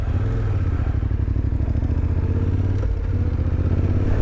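A Yamaha Tenere motorcycle cruising on an open road, its engine droning in a steady, loud, even rumble with a fast pulsing beat and a faint clatter, continuous throughout with no speech.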